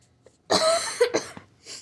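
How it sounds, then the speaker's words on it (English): A few harsh coughs close to the mic, a burst of two or three, then a brief pause and a softer trailing cough. "I'm coughing so much because of how mad I am"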